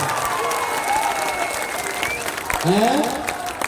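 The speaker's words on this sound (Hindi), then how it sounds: "आप बजा लो ताली जितना जोर से बजाना है" Loud crowd applause fills a packed open-field political rally in Damdaha, Bihar, steady dense clapping with a voice speaking through it and cheers rising near the end.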